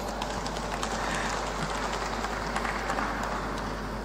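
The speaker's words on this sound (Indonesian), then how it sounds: "Tepuk tangan ya." An audience claps at a formal Indonesian gathering addressed by a governor, producing a dense, even patter of applause over a steady low hum throughout.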